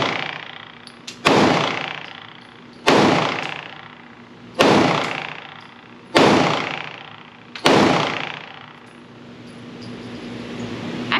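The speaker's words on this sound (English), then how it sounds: "I was not expecting this much kick out of this gun." Five loud, sharp gunshots from a Smith & Wesson M&P Shield Plus pistol chambered in .30 Super Carry, spaced about one and a half seconds apart, each ringing out with a long decaying echo across an open range.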